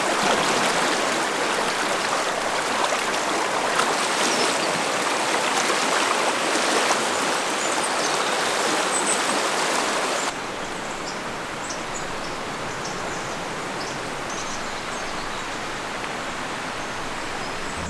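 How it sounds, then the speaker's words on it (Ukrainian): Loud, steady rushing of a turbulent river current in Albania, a dense broadband roar that drops slightly in level partway through and continues without voices. "Така течія бурхлива і вода просто, просто без слів."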